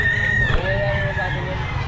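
Chickens at a pet market cluck and call close by, a drawn-out crow-like cry rising over the steady flock noise.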